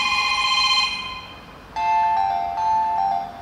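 A Moto G32 phone plays a ringtone: bright, clear electronic chime tones in two melodic phrases, loud and close, with no talking.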